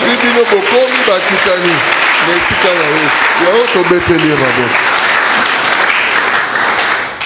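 Church congregation applauding and acclaiming the Lord during worship, with loud sustained clapping throughout and voices shouting and cheering over it, tapering slightly at the very end.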